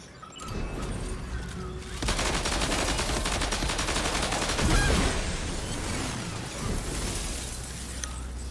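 Rapid, sustained gunfire in Death Stranding 2: On the Beach, dense automatic bursts after an opening lull, loud and close, with a heavier blast near the middle and continuous shooting afterward.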